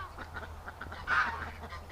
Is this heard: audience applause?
no